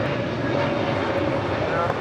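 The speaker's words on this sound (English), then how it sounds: "This is Air France Flight 65 departing to, taking off to Paris." An Air France Boeing 777-300ER takes off from LAX, its engines making a loud, steady, broad roar heard from nearby.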